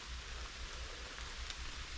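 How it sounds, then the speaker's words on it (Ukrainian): Rain falls steadily in a forest as a faint, even hiss with no breaks. "Дощ дощ не перестає, все посилюється і посилюється."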